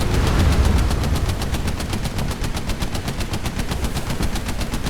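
Rapid automatic gunfire from ship guns in the War Thunder naval game, a loud continuous stream of evenly spaced shots with no pauses for several seconds.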